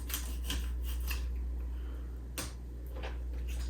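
Knife cutting down through a filleted fish to remove the wings, heard as several short, close scraping and slicing strokes over a steady low hum.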